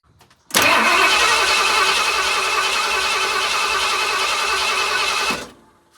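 Car engine cranking steadily during a compression test on a cylinder, a loud continuous whirring drone for about five seconds that starts and stops abruptly.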